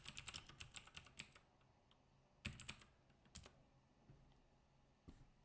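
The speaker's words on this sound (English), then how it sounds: "you can't even see what I'm typing in this terminal" Quiet typing on a computer keyboard in a terminal, two quick bursts of close, crisp key clicks separated by a pause, then a few scattered taps.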